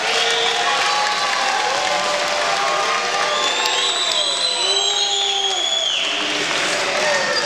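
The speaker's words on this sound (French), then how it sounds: "Applaudissements pour les deux combattants" Applause and cheering from an audience for two fighters after a bout, a loud dense wash of clapping and whoops filling the whole stretch, with voices talking over it.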